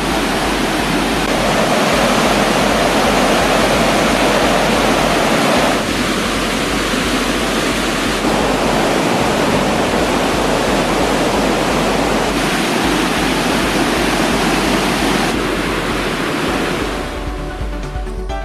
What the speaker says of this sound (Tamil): மெயினருவி, சினிஃபால்ஸ் உள்ளிட்ட அனைத்து அருவிகளிலும் தண்ணீர் ஆர்ப்பரித்து கூட்டுகிறது